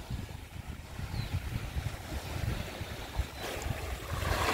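Outdoor ambience at a sandy lakeside beach on Lake Toba at Huta Langat: gusty wind buffeting the microphone over low, rumbling lapping of water, continuous and fairly loud, with no voices.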